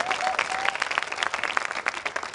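Steady applause from an audience, dense clapping filling the whole moment at a moderate level, with a faint murmur of voices underneath.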